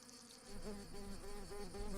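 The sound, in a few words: worker wasps buzzing leaving the colony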